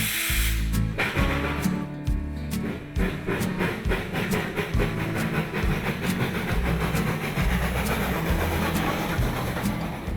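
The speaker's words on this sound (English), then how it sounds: "Father and son team John and Barney Gramling bring their Flagg Coal steam engine, Hank, to Thomaston every year to give our visitors a special ride." A Flagg Coal 0-4-0 tank steam locomotive runs close by. Its steady chuffing beats keep a regular rhythm over a rolling rail clatter, and a brief hiss of steam comes through. No one speaks.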